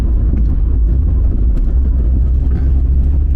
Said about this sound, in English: You can really hear the blowing exhaust as well.